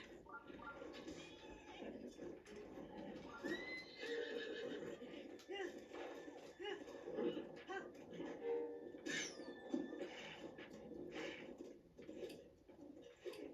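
A horse whinnies amid a busy soundscape in the video game The Legend of Zelda: Breath of the Wild, with a voice talking over it and some faint bird-like chirps in the background.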